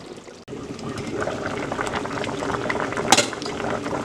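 Red palm oil stew simmers in a pot with soft bubbling and a low steady liquid churn, close and moderate in level, with one brief clink partway through.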